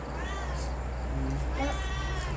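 A cat meows twice in quick succession, a close, rising cry over steady low background noise, with no talking.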